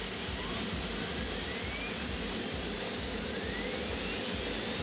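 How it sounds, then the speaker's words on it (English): Four Isotov turbine engines of a tractor-pulling machine, about 1900 horsepower each, spool up at an event in Herning, Denmark, a loud continuous roaring whine with rising tonal sweeps and a throbbing low pulse throughout. "Starting up the 4 Isotov 3 turbines, which takes its time. Each one about 1900 horsepower."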